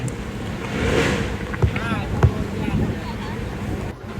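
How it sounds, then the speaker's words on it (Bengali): Boats float at a river landing at Dogortoli, Ashulia near Dhaka, heard as open outdoor water ambience with wind buffeting the microphone, a brief wavering engine-like tone midway and faint distant voices. "নৌকা আছে মানে নৌযান তার মধ্যে ছোট নৌকা ঢি নৌকা বড় নৌকা"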